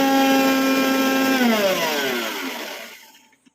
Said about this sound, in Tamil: இப்போ இதை நல்லா நைஸாக பவுடர் மாதிரி அரைச்சி எடுத்துக்க போகிறோம்.